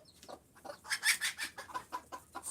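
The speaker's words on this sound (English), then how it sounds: "There's George Clooney scaring my chickens" Backyard chickens cluck and squawk in quick, agitated bursts, close and fairly quiet, with several rapid calls piling up.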